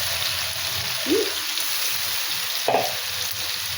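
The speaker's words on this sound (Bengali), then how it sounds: "ওলগুলো একটু তেলে ভাজাভাজি করি" Pieces of yam fry in oil in a pan with a steady close sizzle, broken by two soft bursts of sputtering as they are moved or added.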